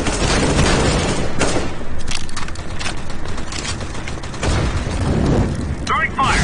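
A flashbang grenade thrown and exploding in a Counter-Strike-style video game, heard amid a loud, dense barrage of gunfire and bursts that runs throughout, with a mechanical clatter near the end.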